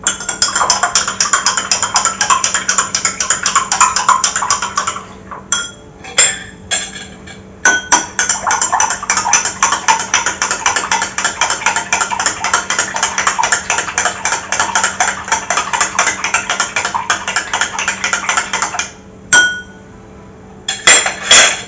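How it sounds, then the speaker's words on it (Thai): A spoon stirring syrup into water in a glass, rapid bright clinking and tapping against the glass that runs almost nonstop with a few brief pauses, close and loud, no talking. "น้ำเชื่อมลงไปเลย ลงไปนะครับ จากนั้นก็ทำการคนครับ"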